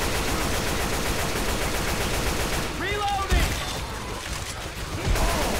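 Gunfire in a first-person shooter video game, a dense spray of shots and bursts under a steady wash of game noise, with a louder crack around the middle and another near the end.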